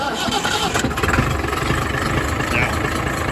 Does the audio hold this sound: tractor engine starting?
yes